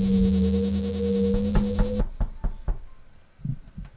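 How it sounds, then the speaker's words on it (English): A series of firm knocks sounding close and distinct, first under a steady electronic hum, then alone as the hum cuts off, in an irregular rhythm with a few softer thumps near the end. "Someone's knocking."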